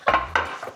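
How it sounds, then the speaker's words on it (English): A spoon scrapes and knocks around a pot as chopped cilantro is stirred into hot rice, giving two close, distinct scraping strokes with a fainter third at the end, with no voices. "we are just going to stir in all that chopped cilantro"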